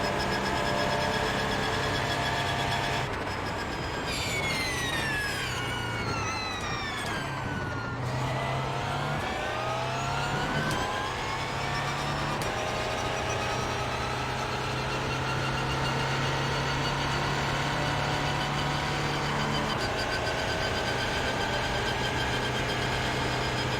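Porsche race car engines in the racing sim iRacing, a sustained loud drone with rising and falling pitch sweeps as cars accelerate and pass close by, continuous throughout with no talk.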